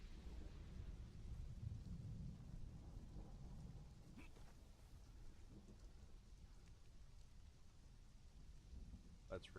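A video game storm brings steady rain hissing with low, rolling thunder rumbling quietly underneath throughout, all faint and distant in the background.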